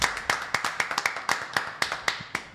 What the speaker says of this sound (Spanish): Vamos a darle un fuerte aplauso a Carlos Martínez Portes.